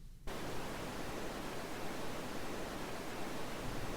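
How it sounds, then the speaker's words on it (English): Dense, steady random-walk noise generated by a simple synthesized oscillator, a soft broadband hiss that switches on abruptly and holds at an even level throughout. "Now it sounds much softer and sounds like a real noise from real world."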